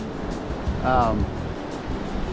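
Ocean waves wash onto the Myrtle Beach shore as a continuous broad rush with gusty wind noise, and a voice briefly cuts through partway in.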